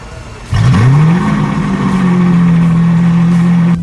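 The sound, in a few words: 2017 Lamborghini Aventador S engine starting up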